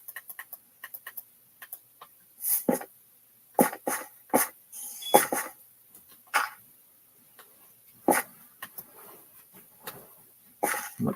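A dog gagging and coughing after gulping water too fast, heard as a series of sharp, irregular retching coughs and short hacking bursts, fairly close and with no talk over them.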